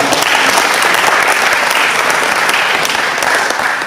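A large audience applauds loudly and continuously, a dense wash of clapping that holds steady throughout.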